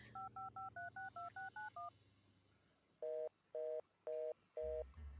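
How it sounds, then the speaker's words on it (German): Telephone keypad tones dial a number in the video game Art of Murder: FBI Confidential: a quick run of nine even beeps, then four long loud tone bursts after a pause, with no one talking. "Ich werde ihn anrufen. Die Nummer meines Chefs lautet... 5, 5, 5, 3, 6, 2, 6, 9, 1."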